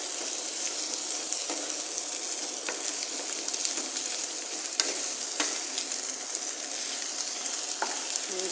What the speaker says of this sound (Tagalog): ang bilis magluto ng ampalaya